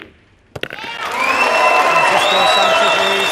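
A packed crowd erupts into loud, sustained cheering and shouting after a sharp knock, at a US Open Pool Championship quarter-final match, the roar building and holding steady.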